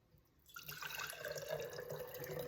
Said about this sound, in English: I'm gonna pour 1/2 of this into the jar